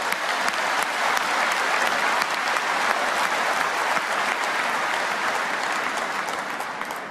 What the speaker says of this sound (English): How about a big round of applause for Yo-Yo?